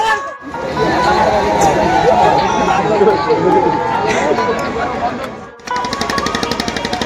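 A dense crowd waits at the riverbank for a boat at the traditional Rash Mela fair by Moynagarh Rajbari, a loud, steady babble of many voices and footsteps close by, ending in sharp rhythmic clatter.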